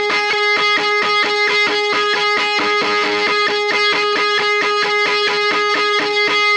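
A heavily distorted electric guitar plays a fast, chugging riff with a steady repeated note, loud and continuous with no voices.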